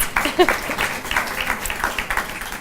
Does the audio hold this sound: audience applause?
yes